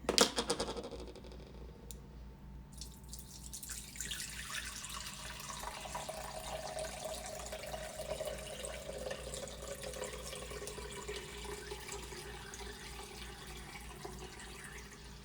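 Ginger turmeric juice pours steadily through a cloth strainer into a container, a continuous splashing trickle that starts with a brief clatter and settles into an even, moderate stream.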